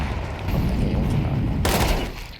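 Gunfire fills a video game battle, a dense sustained barrage of shots with a grenade throw in the mix and a sharper burst of noise near the end, loud and continuous with no clear talk.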